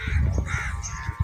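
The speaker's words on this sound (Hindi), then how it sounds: "ये देखिए जी, कौवा हमारी दीवार पे बैठा हुआ है सुबह सुबह के टाइम और धूप लगवा रहा है।" A crow perched on a wall in a village on a winter morning caws in short repeated calls over a steady background hum, fairly close and moderately loud.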